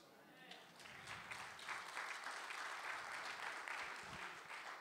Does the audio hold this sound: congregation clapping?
yes